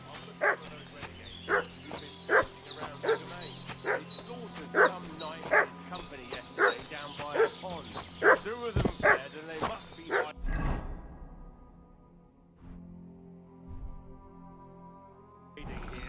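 A dog barking in the video game Kingdom Come Deliverance 2, with repeated sharp barks and yips in a steady rhythm for about ten seconds, then a loud thud and quieter rustling, with a voice speaking over the barking.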